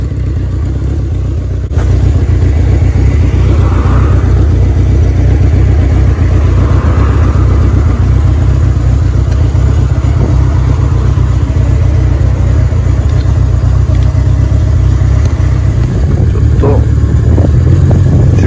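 Honda CB750K4 motorcycle engine running loud and close in a steady, throbbing rumble that jumps in level after a quiet start and keeps going without a break.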